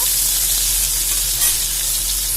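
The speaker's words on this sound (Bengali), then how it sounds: "ভালো করে মিক্স করে ভেজে নেব ফুলকপি আর আলুগুলো" Cauliflower and potatoes with turmeric and salt frying hard in a kadai, a loud dense sizzle and crackle that stays constant with a brief stir-swell near the middle, no voices present.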